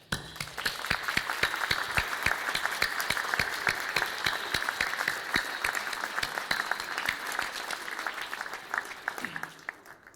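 Hall audience at a mayor's 2024 New Year address claps warmly for the municipal staff, a sustained roomful of hands with distinct sharp claps, fairly distant and fading near the end.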